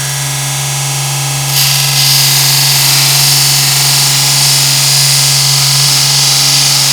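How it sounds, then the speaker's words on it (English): A VEVOR 30 x 1-inch variable speed belt grinder sander with VFD grinds a small screw, a loud, steady, dense abrasive roar with a constant motor hum that brightens and intensifies after a second or so. "That is melting that little screw right up."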